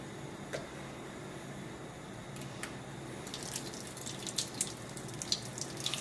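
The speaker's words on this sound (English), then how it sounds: "But you can see the amount of water that's coming out of here." Faint, steady stream of water running from a tap, with a continuous hiss and occasional splashes and drips in a quiet setting.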